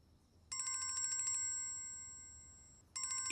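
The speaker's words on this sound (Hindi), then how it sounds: "किसका फोन आ गया?" An electronic phone ringtone chimes in a bright, repeating pattern, pausing briefly before starting again; quiet surroundings otherwise.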